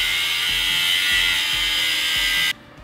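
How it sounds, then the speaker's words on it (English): A grinder cuts wear marks off the rear brake parts of a Lexus IS300 with grinding rear rotors. The whine is loud and high and runs for about two and a half seconds, then stops abruptly into quieter background noise. "I'm gonna take my grinder, cut that shit out, and end this bullshit"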